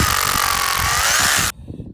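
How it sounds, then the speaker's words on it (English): A power drill pre-drilling screw holes in a fence post outdoors, a loud close whine lasting about a second and a half before cutting off abruptly, leaving faint background noise. "Pre-drilled the screw,"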